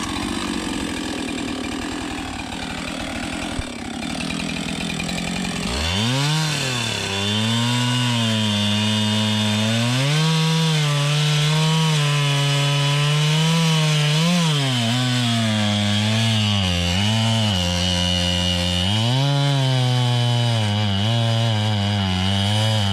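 A chainsaw starts up and runs loud and close throughout, revving and bogging in uneven surges as it cuts a big leaning black oak full of rot. No talking is heard over the engine.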